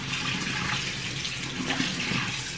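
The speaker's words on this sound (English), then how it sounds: "Wash and dry all produce" Tap water runs steadily into a sink while produce is washed, a continuous close splashing rush with no speech.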